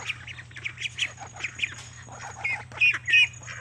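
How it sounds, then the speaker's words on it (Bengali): Chickens in a coop squawk and cluck in short, busy bursts at close range, with a couple of louder, harsher calls near the end over a faint hum. "ওর ভিতরে আরও আছে অনেক ছোট মুরগি আছে"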